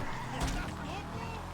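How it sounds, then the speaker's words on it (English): Game engine sound of a Karin Calico GTF, an all-wheel-drive 1990s rally car modeled on the Toyota Celica GT4, in GTA: a steady loud drone with tire noise and a brief skid-like burst partway through, with talk mixed in. "and listen to the engine"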